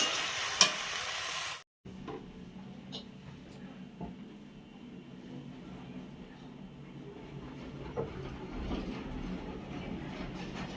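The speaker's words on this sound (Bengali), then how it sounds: "এখন একটু ভেজে শুধু জলটা দিয়ে দিব।" Nearly cooked meat fries in a pan in a home kitchen, giving off a steady, soft sizzle broken by occasional scrapes and clinks of stirring, after a short louder burst and a brief silent gap.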